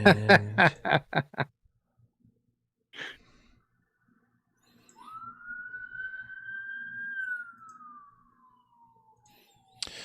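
A single police siren wail climbs, holds a steady high pitch, then slowly glides downward, sounding clear and fairly close, after a burst of laughter and voices at the start.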